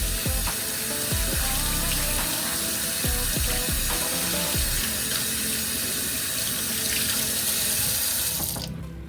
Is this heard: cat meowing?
no